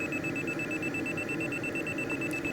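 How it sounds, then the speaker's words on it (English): A glider variometer in the Condor 3 flight simulator gives a steady high electronic tone through the whole moment, sounding over a constant wind-and-cockpit rush. "Although I tend to fly by the audio, that's the beeping sound."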